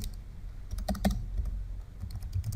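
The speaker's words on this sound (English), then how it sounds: "I can type here Ali" Soft, close typing on a computer keyboard while filling in a WordPress page, a handful of light scattered keystrokes over a low steady room hum, no talking.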